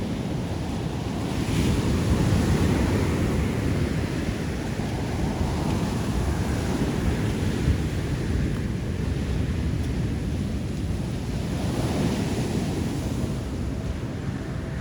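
Steady roar of surf washing onto a beach in Antique, Philippines, with gusty wind buffeting the microphone and waves swelling at intervals.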